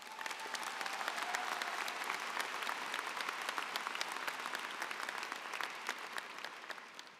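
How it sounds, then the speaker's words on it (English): A commencement audience at the Michigan Ross ceremony breaks into sustained applause, a dense, steady wash of many hands clapping in a large hall, continuing evenly throughout. "Let's give them one more round of applause."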